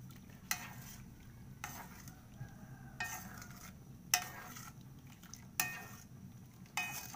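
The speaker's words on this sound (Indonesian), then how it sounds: "caranya teman-teman aduk-aduk secara perlahan ya seperti ini" A utensil slowly stirs bread pudding mixture in a pan, giving soft regular scraping strokes roughly once a second over a faint low background hum.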